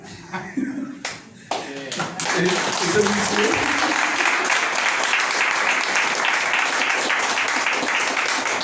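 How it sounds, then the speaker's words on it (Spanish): Applause at a Sunday school service swells after a few scattered claps and brief talk, settling into sustained, even clapping from a group. "Ahí sí no le damos un aplauso a Dios."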